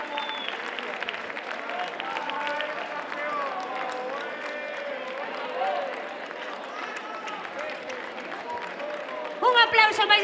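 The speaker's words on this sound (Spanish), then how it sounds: "Un aplauso máis grande para a Murga PTV, que cumpre 25 anos." A crowd at the final of a Pontevedra murga contest applauds a murga group: sustained, even clapping throughout while an announcer talks over it, with a sharper burst of clapping near the end.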